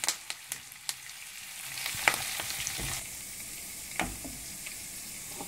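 Curry leaves, green chillies and dal frying in oil over a medium flame, crackling with sharp pops at first and then settling into a softer, steady sizzle with occasional louder spits.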